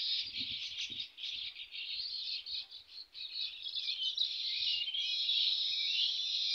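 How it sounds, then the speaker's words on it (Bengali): Baya weaver birds chatter around their nests woven from date palm leaves, a continuous, busy high-pitched chirping from many small birds nearby that swells louder toward the end. "আপনাদের দেখাচ্ছে এটা সব বাবুই পাখি"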